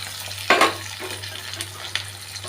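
Chopped onion and two cloves of garlic sautéing in hot oil, soft crackling sizzle with a couple of sharp stirring scrapes near the start, fairly quiet over a steady low hum.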